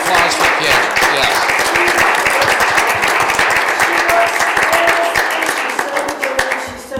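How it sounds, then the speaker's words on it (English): A township trustees meeting audience gives a woman named Kim loud, close applause, with sharp individual claps and cheering voices mixed in, lasting several seconds before thinning out. "Let's have a round of applause for Kim."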